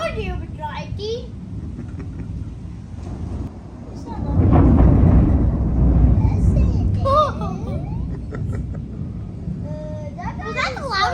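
A loud, deep thunder rumble swells from the middle and rolls on long enough to shake a house during a lightning storm with strong winds, while children's voices chatter and call out before and after it.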